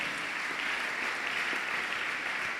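A church congregation applauds, steady dense clapping that carries on unbroken at moderate loudness, with no voices heard above it.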